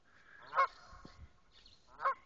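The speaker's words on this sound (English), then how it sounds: "Just a normal flock of geese." A flock of geese honks at a pond, two loud nasal honks about a second and a half apart over quieter background calls and rustling.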